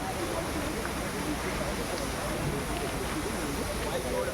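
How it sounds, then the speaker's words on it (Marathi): Waterfall at Khopoli, a steady broad rushing roar of falling water, loud and constant throughout with no pauses. "हा बघा धबधबा किती उंचावरून पडतोय"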